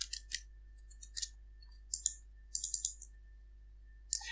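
A computer mouse clicks in short sharp bursts, single clicks and quick pairs spaced out over a steady low electrical hum, close and alone with no talking.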